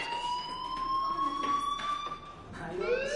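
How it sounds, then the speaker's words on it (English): A fire alarm rings in the video game Life is Strange, a steady high electronic tone held through the moment with a rising sweep near the end, loud and unbroken. "Hey, do you hear that fire alarm?"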